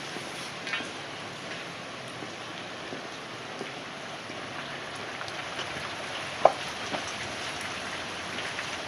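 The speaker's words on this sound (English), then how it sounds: "It's been raining all day long." Steady rain falls and patters on a surface, with scattered nearby drips and one sharper tap, no voices.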